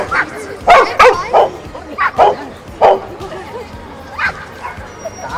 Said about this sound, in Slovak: Štekanie na povel, hej?